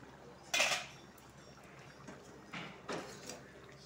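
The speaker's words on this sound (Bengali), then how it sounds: "এখন উঠাই দেখবো সিদ্ধ হয়েছে কিনা।" A pot lid is lifted off rice and potatoes cooking together, giving a soft metallic clank followed by a few quieter clinks and scrapes at close range.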